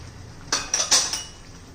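A spoon clinks against a pan while paneer masala spices, coriander powder and turmeric are stirred, about four sharp metallic taps within a second, close and fairly loud, with quiet around them and no talk.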